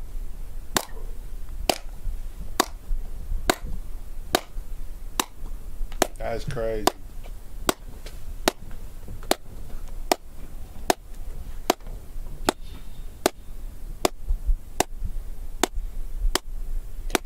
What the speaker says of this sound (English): You can hear how the room deadens echoes by clapping constantly while closing the doors.